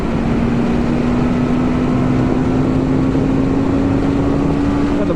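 A 2024 Kawasaki Eliminator cruiser motorcycle engine drones steadily while riding, a loud constant hum with heavy wind rush and no talk.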